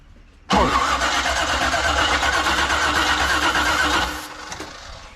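An AMC Hornet car engine, stuck in gear, cranks and catches abruptly, then runs at a steady, loud idle for several seconds before the sound drops away.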